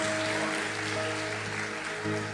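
A church congregation applauds in praise, a dense, continuous wash of clapping from many hands filling the room at moderate volume, with a steady low hum beneath.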